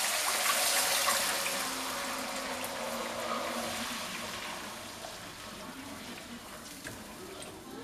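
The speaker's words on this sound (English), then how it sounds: "So I'm adding the water." Water streams steadily into a pot of rice for dumplings, a continuous splashing pour that is strongest at first and gradually softens, with no talking.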